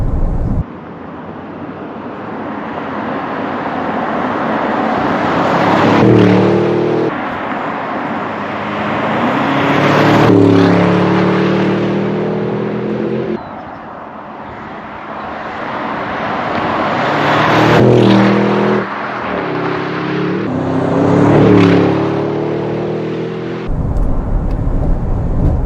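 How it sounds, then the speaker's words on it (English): A 2025 Audi RSQ8 Performance SUV accelerates hard in RS2 mode, its engine roaring loud and close as it climbs through gears with brief shift gaps and crackles from the exhaust, heard from inside the cabin over road and wind noise. "Crackle from the exhaust."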